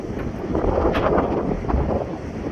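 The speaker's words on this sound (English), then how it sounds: "it is pretty windy and chilly." Steady, chilly wind at Lake Erie buffets the microphone with low rumbling gusts, a continuous blustery roar without speech.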